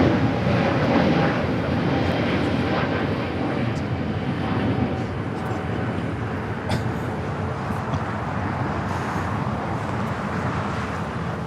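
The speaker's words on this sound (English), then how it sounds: "Philippine Airlines Flight 113, the 777 heading to Manila, now pushing it back." A Philippine Airlines Boeing 777 pushes back at LAX, giving off a steady moderate engine rumble and hiss mixed with distant airport and road noise, with no talk over it.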